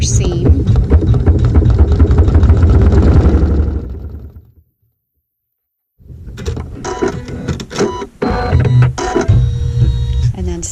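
A sewing machine runs a quilt seam on a crazy quilt triangle, a loud steady motor whir close up that slows and stops, then after a short silence more mechanical clatter and handling sounds follow.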